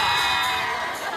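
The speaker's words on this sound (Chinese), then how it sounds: "掌声加尖叫" An audience at a school graduation-trip evening show roars with cheering and high-pitched screaming. The crowd noise is loud, dense and sustained, with shrill voices on top throughout.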